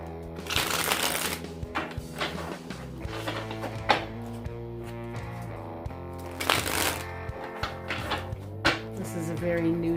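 A brand-new tarot deck is shuffled in stiff, repeated bursts of riffling and card slaps, close and fairly loud, over steady musical background tones.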